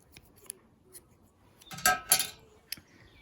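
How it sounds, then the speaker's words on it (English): Scissors snipping knitting yarn, two quick close crisp cuts amid faint handling clicks in a quiet room. "about 6 inches of your working yarn, cut it"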